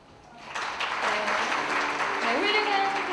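An audience at a software and humanities conference applauds a lecturer after his talk, the clapping swelling quickly into a sustained, full round while a voice speaks over it.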